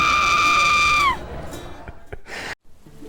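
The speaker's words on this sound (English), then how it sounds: "all of a sudden you hear a loud scream." A loud, sustained high-pitched scream rings out for about a second, then breaks off into scattered crowd noise, gasps and murmuring.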